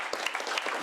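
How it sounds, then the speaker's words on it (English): An audience at a fireside-chat talk event applauds, a dense, steady burst of clapping throughout the short moment with no talk over it. "Can we please give him a big, warm round of applause?"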